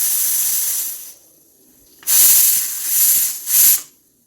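A pressure cooker's steam is released slowly in short bursts, a long hiss followed by a quiet pause, then three more loud hisses close by.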